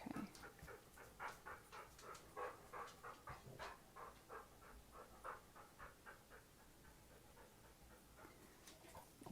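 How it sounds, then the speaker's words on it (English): A dog pants heavily in quick rhythmic bursts, close but fairly quiet, breaths rising and falling steadily throughout with no talking. "tonight's heavy breathing is going to be brought to you by Odin, not myself."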